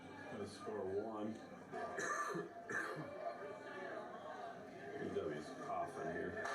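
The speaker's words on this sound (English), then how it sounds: "PW's coughing here" Player coughing during a softball game, several sharp throat-clearing coughs heard quietly amid background voices and field chatter.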